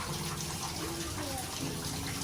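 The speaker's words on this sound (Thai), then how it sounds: "น้ำตกแบบนี้เขาเรียกว่าม่านน้ำตก" Steady, rushing wash of water from a curtain-style waterfall, continuous and fairly close, with faint voices in the background.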